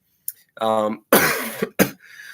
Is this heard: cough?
yes